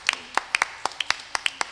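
A church congregation claps during a healing service, about a dozen crisp, uneven hand claps in quick succession, fairly close and not in unison.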